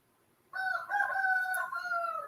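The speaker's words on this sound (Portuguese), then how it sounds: "o galo cantando" A single rooster crows once, fairly close and clear, a long drawn-out call after a moment of quiet.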